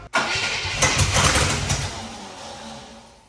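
A long-abandoned 1967 Cadillac DeVille V8 cranks and catches on its first start in 40 years, a loud rough burst that settles into a fading, uneven idle.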